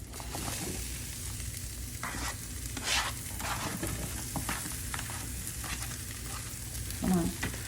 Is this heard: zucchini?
yes